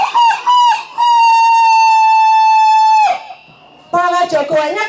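Rooster crowing in a loud, close, long sustained call lasting about two seconds, set between shorter busy bursts of sound on either side.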